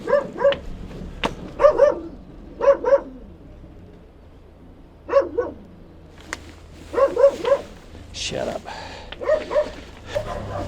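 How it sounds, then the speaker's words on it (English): Several dogs bark in repeated short bursts along a walking trail, some near and loud, others farther off, with someone speaking briefly between the barks. "I've got dogs barking everywhere now."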